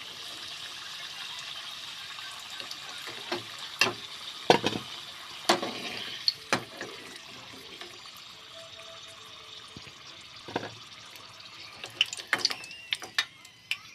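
Indian gooseberries (amla) fry in hot oil, giving a low, steady bubbling hiss with scattered sharp spatters and pops, some in quick clusters, close by and moderately quiet.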